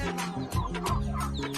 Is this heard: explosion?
no